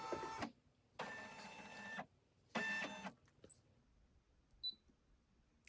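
A Brother embroidery machine traces the corners of a patch design, giving three separate whirring motor runs of about a second each, with small clicks and ticks in the quiet gaps between them.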